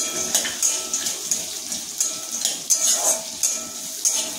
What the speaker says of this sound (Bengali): এরপর দিয়ে দিচ্ছি আমি রোস্টেড চীনাবাদাম, এটাও আমি পেঁয়াজের সাথে ভাজতে থাকবো।